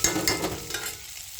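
Sliced onions fry and stir in a pan as they brown, giving short scraping stirs and a soft sizzle that fades out after about a second.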